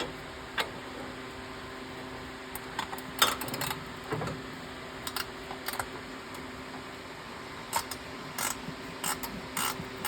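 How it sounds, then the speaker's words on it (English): Ratchet clicking while turning an ignition coil bolt on a 2006 Nissan Frontier 2.5 litre engine: irregular short bursts of light metallic clicks against a steady background hum, close up, no talking. "I'm going to try and do it this time with the ratchet already attached"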